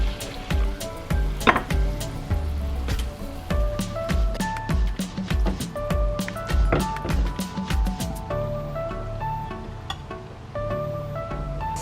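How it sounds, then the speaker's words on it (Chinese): Pork belly stir-fried in a pan with a little sesame oil, a steady sizzle broken by repeated clacks and scrapes of a utensil against the pan, close and moderately loud, with no voices. "加入一点香油，"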